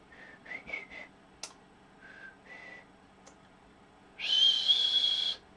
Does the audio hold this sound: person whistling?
yes